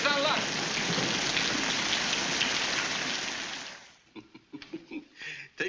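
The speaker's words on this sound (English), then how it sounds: "Oh, it's raining harder." Heavy rain hisses steadily for about four seconds, then fades out, leaving scattered soft knocks and faint sounds, from a 1944 film.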